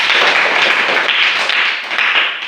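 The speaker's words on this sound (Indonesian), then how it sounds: "Tepuk tangan dulu." A classroom crowd claps steadily throughout, a dense, continuous patter of many hands at close range with no voices over it.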